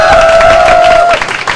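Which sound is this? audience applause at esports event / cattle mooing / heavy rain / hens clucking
audience applause at esports event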